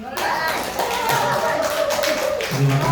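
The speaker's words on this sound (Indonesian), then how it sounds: "Boleh saya minta tepuk Bapak Ibu ya?" An Indonesian audience claps together on request in a rhythmic burst, with a speaker's voice over the clapping.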